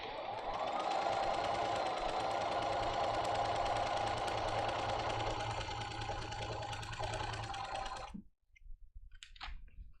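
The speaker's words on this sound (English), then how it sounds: "I can just lift the pressure foot, slide the fabric back, and start sewing again" A domestic sewing machine stitches fabric in a steady, fast, loud mechanical drone for about eight seconds, then stops abruptly, leaving quiet faint clicks and handling noises.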